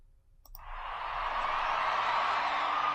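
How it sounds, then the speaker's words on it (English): A massive concert crowd roars and cheers before a song, a dense, sustained wall of cheering that swells after a brief quiet start and stays loud and steady. "Ooh, that's a crowd."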